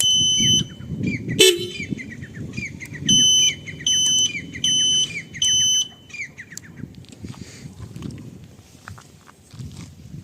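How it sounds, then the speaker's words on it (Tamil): Several short, loud two-tone horn beeps in bursts from a diesel Royal Enfield Bullet motorcycle, a sharp squeal standing out among them, with the engine idling steadily underneath. "ஹார்ன்லாம் உங்களுக்கு போட்டு காமிக்கிறேன் பாருங்கள்."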